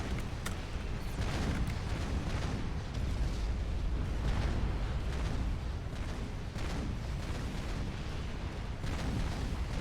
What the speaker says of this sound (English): He's trying to use the Demolisher mobile artillery.